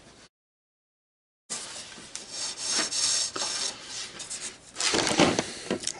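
Backer board for an 8x10 picture frame being cut, a rough rasping, rubbing stroke sound after a brief silence, with a louder, harsher burst near the end.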